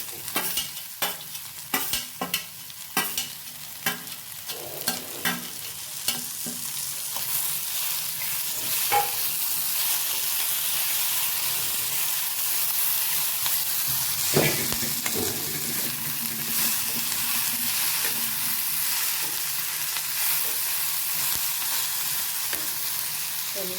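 Mushroom curry base fries in a pan until brown, a steady broadband sizzle with scattered stirring clatters near the start, continuous and close without any voices.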